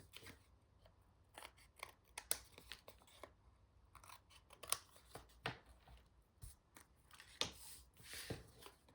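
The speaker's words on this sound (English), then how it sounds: "then I'll just cut off the excess pieces on the end" Scissors snip off excess paper from a torn-paper craft tag, making a series of sharp, close, irregular cuts with quiet pauses between them, and nobody talking.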